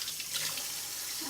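Cold water runs steadily from a kitchen faucet into the sink, a close, even hiss with no voices over it.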